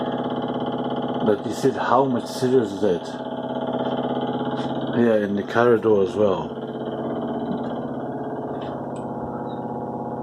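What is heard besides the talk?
washing machine vibrating noise from flat above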